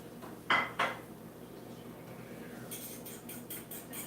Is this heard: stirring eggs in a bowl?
yes